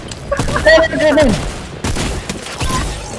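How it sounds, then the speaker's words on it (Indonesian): Gunfire in the Fortnite video game, rapid bursts crackling close alongside excited voices talking over the shots. "Tembak, Bud."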